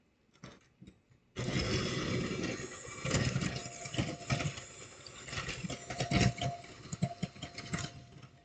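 An electric mixer whips cream at high speed, a steady close whirring drone with uneven clicks and thumps as the beaters work through the thickening cream. No one talks.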